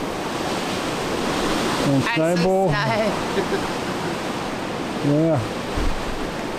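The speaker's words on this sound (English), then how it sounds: "So this is outside. Quite windy with snow." Strong wind roars outdoors during a Quebec snowstorm, a steady loud broadband rush across the whole stretch, with a person briefly speaking over it twice.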